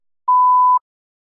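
A single clean electronic tone beeps for about half a second at steady loudness, the prompt signal in a TOEFL iBT speaking practice test, alone with silence before and after.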